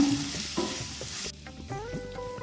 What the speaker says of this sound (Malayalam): ഇതും കൂടെ ചേർത്ത് നമ്മൾ ലോ ഫ്ലെയിമിലിട്ട് നല്ലപോലെ ഒന്ന് അതിൻ്റെ ആ ഒരു പച്ചമണം മാറുന്നത് വരെ നമുക്കൊന്ന് വഴറ്റിയെടുക്കേണ്ടതാണ്